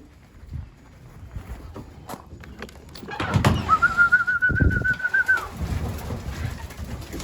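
Racing pigeons back home after a five-mile training toss, soft low cooing and rustling nearby, with a clear whistled note rising over the flock midway.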